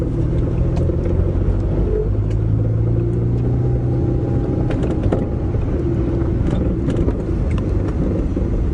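A car engine rumbles steadily and close by at moderate speed, with a low throbbing drone that barely rises as the vehicle picks up a little speed.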